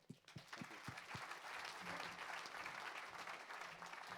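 Audience at a 2019 forum afternoon session breaks into applause, a few sharp early claps swelling into steady, moderately distant clapping that holds to the end.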